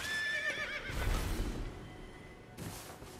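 A horse in the video game Elden Ring whinnies loudly with a rising, wavering neigh, followed by a rushing whoosh and a heavy thud.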